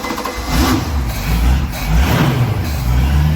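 An old carbureted boat engine running loud and close, a rough, throaty rumble that swells and settles in uneven surges as it revs.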